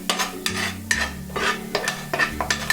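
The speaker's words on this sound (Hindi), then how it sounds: "इसे एक अच्छे से मिक्स हमें देना है।" A spoon stirs a thick mix of spices and harissa paste in a pan, giving a run of distinct scraping strokes in an uneven rhythm over a soft sizzle, close and clear.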